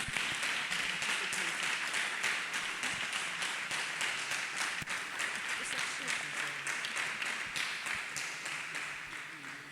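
Church congregation claps for Jesus in sustained, dense applause lasting nearly ten seconds, loud and even throughout before easing off slightly at the end.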